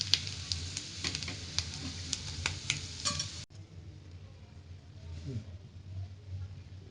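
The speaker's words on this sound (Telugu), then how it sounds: "దుంపలను ఈ విధంగా రంగు మారే వరకు గోల్డ్ కలర్ వచ్చే వరకు వేయించుకోవాలి" Potato pieces frying in oil until golden for aloo kurma, crackling with a busy sizzle and frequent ticking spatters, then falling quieter to a gentler hiss with a few soft stirring scrapes.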